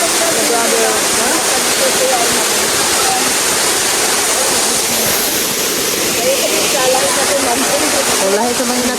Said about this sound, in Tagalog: San Jose Falls